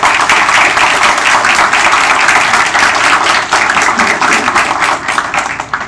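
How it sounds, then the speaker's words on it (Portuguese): Audience at a constitutional anniversary seminar gives a loud, sustained round of applause, dense clapping from a full crowd continuing for several seconds without talk. "Eu peço uma salva de palmas para o Dr. Gélio."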